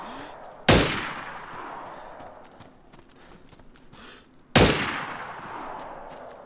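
Two sharp, loud gunshots in DayZ Standalone, spaced a few seconds apart, each with a long ringing echo tail, over quiet background ambience.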